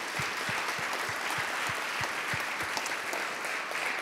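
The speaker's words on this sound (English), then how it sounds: "Let's give them a round of applause." An audience at a Chicago talent-pipeline event applauds in a full, sustained burst of clapping, with a few heavier individual claps standing out early on.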